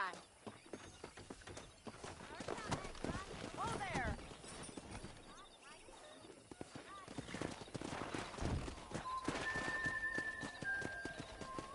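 Clip-clop of horse hooves from a pack of wild horses in the Western video game Red Dead Redemption, steady trotting throughout with a whinny, under brief talk and game ambience.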